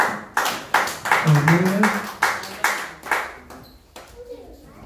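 A church congregation claps in bursts of sharp, rhythmic applause, with voices calling out between the claps that fade toward the end.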